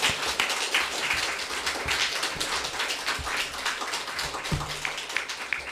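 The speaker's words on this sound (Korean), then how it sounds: "우리 한번 하나님 앞에 영광의 박수 한번 드립시다." A church congregation bursts into applause at a Thanksgiving Sunday service, many hands clapping in a loud, dense, continuous ovation that holds steady from start to finish.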